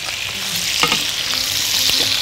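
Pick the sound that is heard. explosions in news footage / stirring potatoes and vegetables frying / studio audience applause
stirring potatoes and vegetables frying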